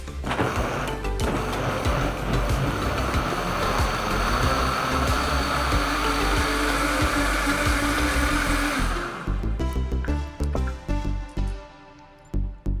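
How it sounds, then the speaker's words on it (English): A blender whirs a chocolate cauliflower smoothie in a loud, steady, close grinding roar for about nine seconds, then cuts off into a few knocks and clatters as it stops. "we're just gonna turn the blender on and whir it up"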